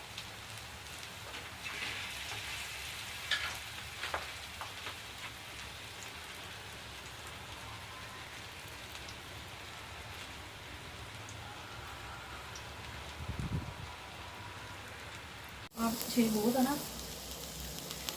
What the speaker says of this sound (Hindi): तो हम इसे सिर्फ इसी तरह पकाएंगे ऑयल में।